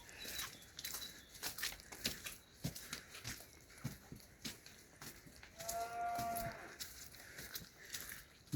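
A cow lowing in a barn, with a drawn-out tonal moo near the middle amid scattered clicks and rustling; fairly faint and with no talk.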